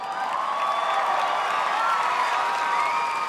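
A talent show audience applauds and cheers continuously, a loud steady wash of clapping and whoops with high shouts, sustained throughout without a break.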